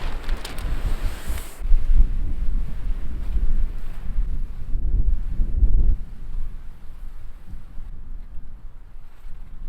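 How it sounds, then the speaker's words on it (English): Strong wind buffets a winter campsite with no tent, only a tarp tied to tree branches, roaring in loud gusts that swell and ease continuously with rumbling noise against the microphone. "Because of the wind, I don't think I'm going to try and start a fire"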